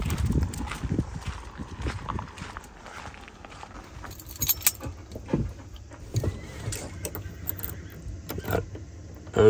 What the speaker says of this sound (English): I don't know if you guys heard the horse,